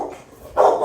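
Lena the dog barks in a short burst, loud and close, with a brief quieter stretch before a second stronger bark.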